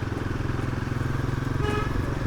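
A Royal Enfield Himalayan 450 motorcycle with an engine guard fitted rumbles steadily at close range while being ridden, a continuous low engine drone with a brief higher whine near the end.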